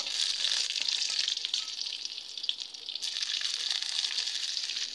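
Black cumin and chopped garlic sizzle steadily in hot oil in a pan, a continuous bright frying hiss that stays loud and even throughout with a slight dip midway.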